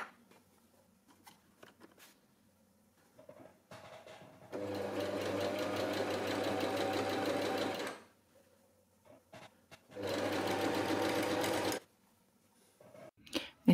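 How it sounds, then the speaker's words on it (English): A sewing machine stitching a wide hem with a presser foot runs in two sustained bursts of steady mechanical whirring, each a few seconds long. Quiet handling clicks and rustles fill the gaps between the bursts. "put the presser foot down and sew a couple of stitches and then backstitch"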